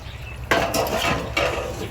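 A metal lid lifted off a pot of pomfret fish curry, giving two close, bright clanks about a second apart with a faint scrape between them and no talk.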